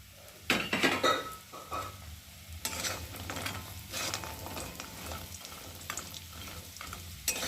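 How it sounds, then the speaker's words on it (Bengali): Lentil dumplings (dal bori) fry in oil in a kadai, giving a steady sizzle with bursts of stirring and metal utensil scrapes against the pan. No voices are heard. "ডালের বড়িটা আগে ভালো করে ভেজে দেবো।"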